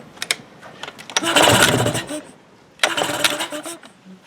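A Mercury Marine 9.9 hp outboard motor running on choke, with a rough, rasping engine note that surges in two loud bursts and drops back between them.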